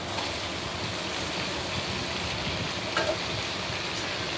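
Pasta being stirred in a pan for an egg pasta dish gives a dense, continuous sizzling hiss with soft stirring noise, close and steady, no talking.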